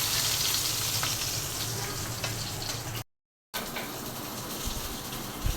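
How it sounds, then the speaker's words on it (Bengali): Fish tail frying in hot oil gives a steady, fairly close sizzle that runs continuously, breaks off in a short silent gap, then resumes with a few soft stirring knocks near the end. "লেজটা আমি আর একটু কড়া করে ভাজবো"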